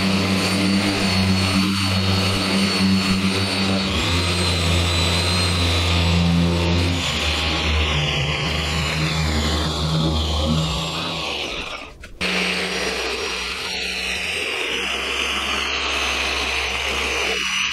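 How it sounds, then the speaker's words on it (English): A dual action polisher working car paint during an exterior detail, a steady loud motor drone with a whirring buzz, briefly dipping near the end before running on. "Let's get going with polishing."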